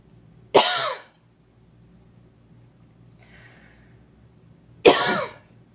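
A woman gives two sharp, close coughs, one near the start and one near the end, separated by a quiet pause with a faint rustle.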